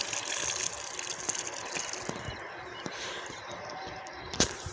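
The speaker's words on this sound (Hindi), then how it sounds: "अब लग गया है पानी।" Water gushes from a pipe outdoors after the supply returns, a steady rushing flow with small clicks and splashes scattered through it and one sharper knock near the end, heard without talking.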